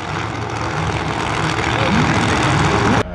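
Drag race car, the number 55, at a no-prep event in Ohio, engine roaring loud and close at full throttle for a few seconds before cutting off abruptly.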